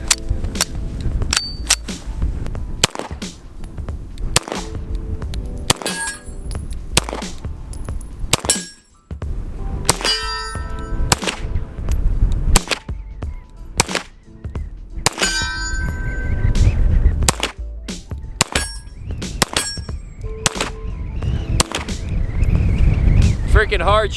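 A BUL Armory SAS II Tac Line 2011-style pistol fires 110 grain rounds outdoors in wind, a long string of sharp loud gunshots with ringing metallic clangs between them, spaced unevenly, with occasional voices.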